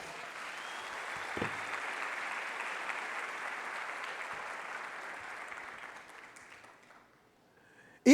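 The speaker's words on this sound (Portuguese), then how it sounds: "dar um aplauso bem forte a Ele" A church congregation claps loudly and steadily together for about seven seconds after being urged to give God a strong round of applause, the sound thinning out and fading near the end.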